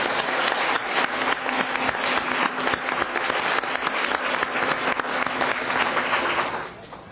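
Sustained applause from the audience welcoming mayoral candidates at a 2006 Oakland debate, dense steady clapping that holds for about six seconds and then tapers off at the end, with no talk over it.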